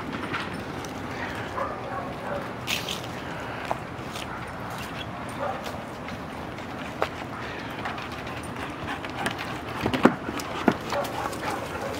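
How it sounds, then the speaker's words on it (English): Dogs romp nearby, with scattered faint barks, whimpers and scuffling paw sounds over a steady low background rumble, a few sharper bursts near the end. "Crazy doggies."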